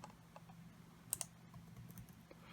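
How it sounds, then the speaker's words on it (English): Soft, close clicks of keys being tapped on a computer keyboard, a few scattered presses in a quiet room. "I'm just hitting my delete button on my keyboard."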